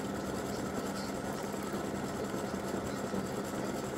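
Embroidery machine stitching free-standing lace gingerbread earrings, a steady fast mechanical whir and needle chatter that runs evenly and close throughout with no voices.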